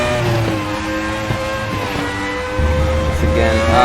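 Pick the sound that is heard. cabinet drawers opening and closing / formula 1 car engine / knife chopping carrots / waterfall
formula 1 car engine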